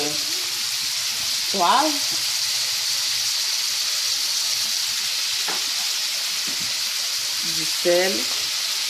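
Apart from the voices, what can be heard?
minced meat and mixed vegetables searing in a pan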